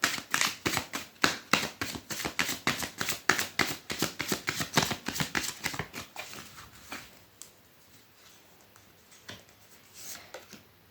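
Tarot cards are gathered and shuffled close up, a quick, rhythmic run of crisp riffling pats that gradually thins into softer, scattered card sounds with no talking.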